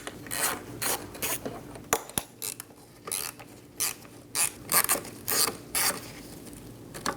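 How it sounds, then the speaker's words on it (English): A T10 bit turns out small screws holding the camera on a Dodge Durango tailgate light, giving quiet, close, uneven rasping and clicking in short irregular bursts with brief gaps. "Using a T10 bit, we're going to remove the two screws for our camera."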